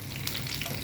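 Garlic and chili sizzle in a pan, a close, crackling fry with a short stirring scrape partway through, brief and alone.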